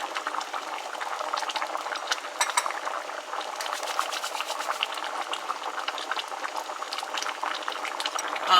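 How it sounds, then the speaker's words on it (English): A pot of seasoned food, Jamaican home cooking, bubbles steadily on a stove, a dense continuous simmering crackle with small popping bursts, close and fairly loud throughout with no talking. "And as the pot is bubbling"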